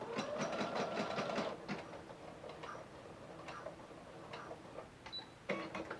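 A sewing machine stitches a fabric face mask in a rapid mechanical run that stops, followed by scattered ticks, clicks and handling noises of fabric and pins, close and fairly quiet.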